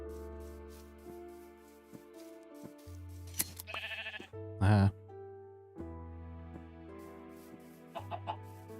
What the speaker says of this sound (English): I did see some sheep up here.